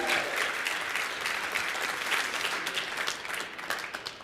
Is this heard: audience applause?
yes